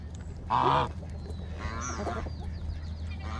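A loud, brief goose honk rings out close by, followed by softer honks and squawks over a low steady hum.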